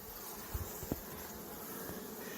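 Honeybees at a hive in a sanctuary, drones and workers among capped brood, give a faint, steady insect hum throughout, with a couple of soft thumps near the start.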